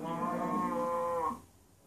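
Cow mooing in the Minecraft video game, a single drawn-out low moo lasting over a second, quiet and heard alone.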